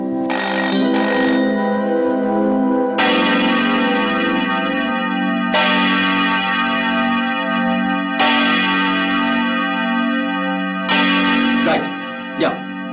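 A telephone rings in repeated bursts, a long electronic ring followed by several evenly spaced rings, loud and close inside an office setting from a 1989 Indian television serial, with brief talk at the end.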